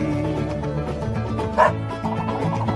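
A dog barking sound effect in a few quick yaps over continuous music, with one louder burst near the middle.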